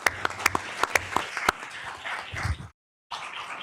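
Sparse, scattered hand claps from a small audience at a Sacramento City Unified School District board meeting, with a few sharp individual claps that thin into a low murmur and then briefly cut to silence.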